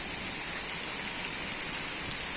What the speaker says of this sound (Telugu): వాన స్టార్ట్ బాగా అయింది, గాలి కూడా బాగానే అయింది